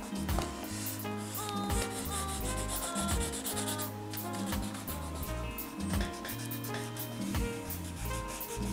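A fingertip rubs over pencil shading on Canson drawing paper to blend it, giving a soft, steady rubbing that runs throughout beneath background music.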